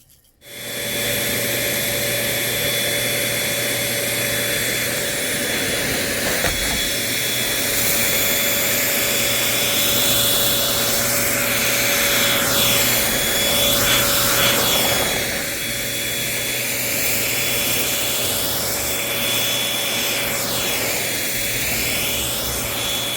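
A Bissell 3-in-1 vacuum cleaner runs continuously with a loud, steady motor whine while picking up white rice from a light carpet, with faint rattles and shifting tone as it moves.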